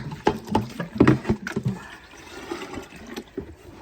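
Cold water poured from a watering can onto soil in a greenhouse, heard as uneven splashing and trickling bursts close by, louder at the start and then settling into a softer steady patter.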